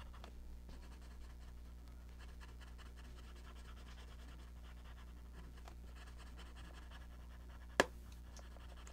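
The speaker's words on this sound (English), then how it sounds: "I just heard that tip break." A colored pencil tip snaps during a colouring session, a single short, sharp crack near the end of an otherwise near-silent stretch with faint scratching.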